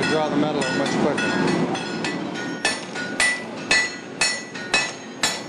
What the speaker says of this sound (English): when we're hammering on the anvil, it's a real noisy ring